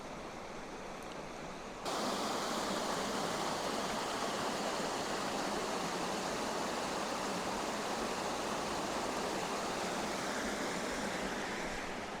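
A river rushes in a constant, dense roar of flowing water that swells suddenly after a quieter start and then stays loud and close without a break, with no voices.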